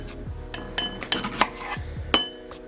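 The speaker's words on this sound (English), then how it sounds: "I'm just going to slice half of this banana." A knife slicing half a banana on a board in a kitchen, with a run of light taps and clinks of metal on dishes at an uneven pace, close by and with no talk.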